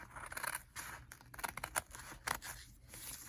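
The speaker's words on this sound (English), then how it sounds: "I'm just cutting straight across" Scissors snip straight across the edge of a crochet tapestry border, a run of close, crisp cuts with short pauses between them and no voices.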